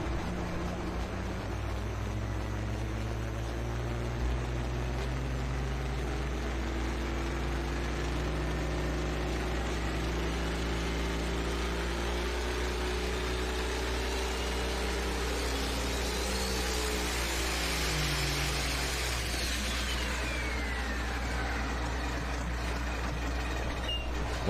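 The Burnin' Green John Deere 4020, a Pro Stock pulling tractor at a tractor pull in Bowling Green, Ohio, sits idling with a steady, deep, throbbing rumble that holds unbroken throughout.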